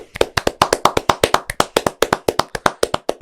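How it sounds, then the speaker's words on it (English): Round of applause from a small group in a podcast studio, sharp distinct claps in a fast steady rhythm, close and loud, with no talking over them. "We got to give a round of applause."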